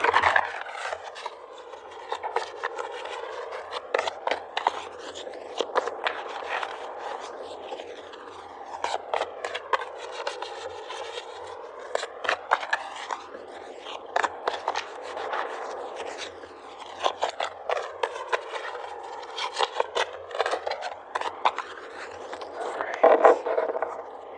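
Romance angel oracle cards are shuffled and pulled, a long stretch of steady papery rubbing and rasping with quick flicking bursts, close and moderately loud, with no talk.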